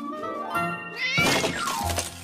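A cartoon cat from a Mickey Mouse children's show gives a drawn-out, rising meow, quickly followed by a loud clattering crash.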